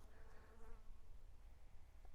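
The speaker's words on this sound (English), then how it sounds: "so a big bee just hit Sammy straight in the side of the head" A big bee buzzes close by outdoors, a steady droning hum with wavering pitch that continues for a couple of seconds, faint and alone with no voices.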